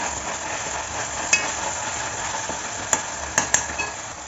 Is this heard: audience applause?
no